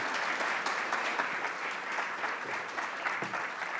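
Audience applause at a talk on human-wildlife coexistence in Kenya, a steady mid-distance patter of many hands clapping for a few seconds to welcome a speaker.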